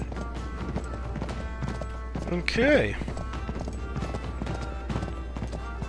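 Horse hooves clip-clop in the Uncharted 3 video game, a brisk rhythmic trot under game speech, with a horse neighing briefly near the middle.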